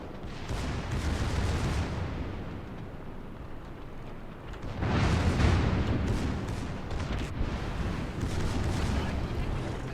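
Rapid secondary gun salvos from the USS Oklahoma battleship in a naval combat game, dense rumbling booms that swell loudly near the middle and keep rolling through the whole stretch, with a voice talking over part of it.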